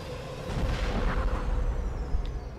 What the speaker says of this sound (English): Why did the moon explode?